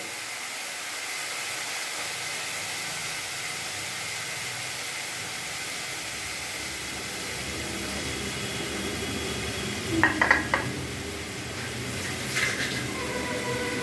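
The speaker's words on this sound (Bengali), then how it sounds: "এবার এর মধ্যে আমি এক এক করে বেগুনগুলো দিয়ে দেবো" Eggplant pieces are dropped into hot oil and cooked spice masala, producing a continuous close sizzle and hiss with a couple of brief clinks near the end.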